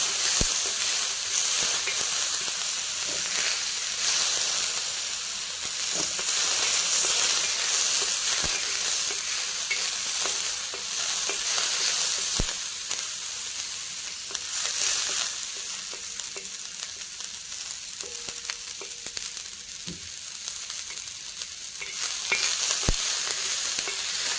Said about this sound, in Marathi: आता मी टमाटर टाकले भाजण्यासाठी आपल्याला टमाटर पण भाजून घ्यायचे